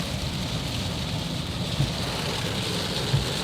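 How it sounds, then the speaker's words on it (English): Heavy rain falling outside, a loud, dense and constant hiss of drops hitting surfaces, unbroken throughout, with a couple of faint low thumps beneath it. "I wonder if this is going to be able to be heard with all the goddamn rain right now"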